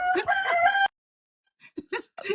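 Roosters crowing in a yard, a loud drawn-out crow up close at the start, then a pause followed by shorter clucks and calls from the birds.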